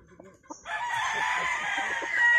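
A fighting-breed rooster crows close by, one long loud sustained call rising after a few soft clucks, with faint background chatter.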